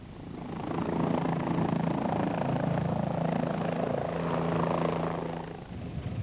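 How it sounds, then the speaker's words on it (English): A Bell 407 helicopter flies over the South African power line maintenance site, its steady rotor thrum and turbine drone holding loud and close for most of the stretch before tapering off near the end. "Bell 407, favoured by Liveline Air Mobile pilots for its emergency systems"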